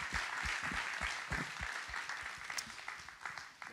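An audience at a city award ceremony applauds a supermarket, giving dense, steady clapping that stays fairly loud and even before tapering slightly toward the end.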